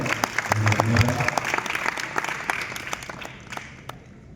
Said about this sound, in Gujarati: ફરી એક વખત ખૂબ જોરદાર તાળીઓ સાથે અભિનંદન.